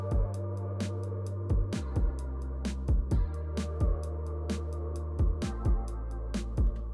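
A song plays back in the Studio One recording software, with a steady rhythmic beat of punchy kick drums and bright hi-hat ticks over sustained bass and chords, loud and clear with no voice.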